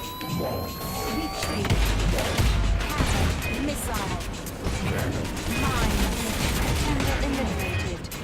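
Missile and cannon fire in the futuristic racing game WipEout Omega Collection, a dense rapid barrage of crackling blasts and impacts over a continuous roaring engine wash, loud and close throughout.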